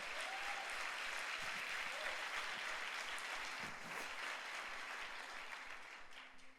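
Church congregation at a Sunday service bursting into steady, dense applause, many hands clapping together in a sustained wash that holds strong before tapering slightly toward the end.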